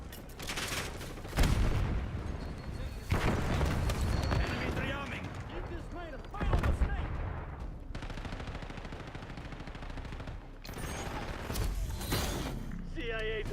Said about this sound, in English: Arming C4! Detonating C4!